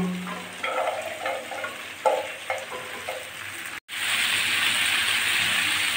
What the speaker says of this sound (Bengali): সজনের ডাঁটা দিয়ে আমি হালকা করে একটুখানি ভেজে নেব।